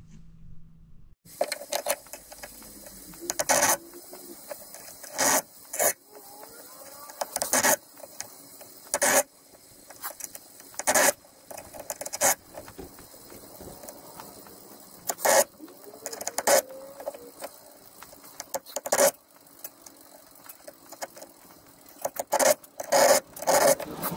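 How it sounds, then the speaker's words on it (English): Triangle and round needle files rasp against a small piece of scrap metal being shaped into a jeweler's stamp, sounding as repeated short scraping strokes in quick bursts, close and fairly crisp, with no talking. "I'm going to do a triangle needle file on one side and then a round file on the other side."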